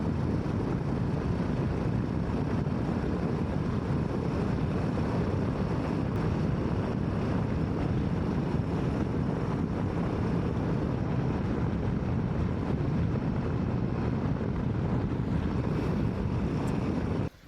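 Steady, heavy wind roars and rushes without pause, a dense broadband buffeting with no voices.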